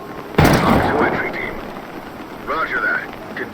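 Gunfire in the tactical shooter Ready or Not: a single loud, sharp shot followed by a long rumbling tail, then muffled game sounds and faint distant voices.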